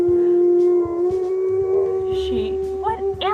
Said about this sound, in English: my dog never hardly barks